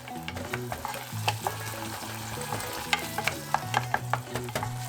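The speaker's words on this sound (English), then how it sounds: "Give it a quick mix." Maruchan Gold spicy ramen gets a quick stir in a pan, with a steady soft sizzle under a run of close scraping and clinking strokes. No one talks.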